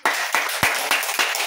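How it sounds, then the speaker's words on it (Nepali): An audience in a church service applauds a pastor, with a short burst of clapping that comes in several pulses and fades quickly. "आदरणीय पास्टर जोडको अधिकारीहरूलाई ताली बजाएर"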